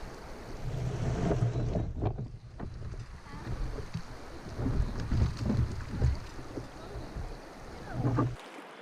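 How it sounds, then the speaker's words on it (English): A kayak is dragged over ground on a river camping trip, with uneven scraping and thumping bursts close to the microphone, wind buffeting in between, and a voice briefly in the background. "Why are you dragging that?"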